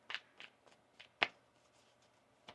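Tarot cards being shuffled by hand, soft papery riffles and taps in a few scattered bursts, quiet and close with no talking.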